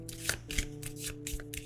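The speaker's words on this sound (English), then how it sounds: "So we're going to shuffle" A deck of cards being riffle shuffled at a tabletop card game, several quick bursts of flicking cards in a row, close and clear, no one talking.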